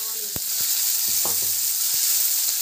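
Onions sauté in a pan with a steady, bright sizzle heard up close, broken by a few sharp taps of a spatula against the pan and a brief scraping stir, with no voices.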